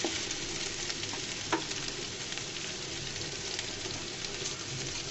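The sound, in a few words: panch phoron spices frying in oil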